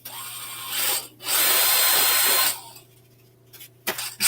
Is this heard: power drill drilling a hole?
yes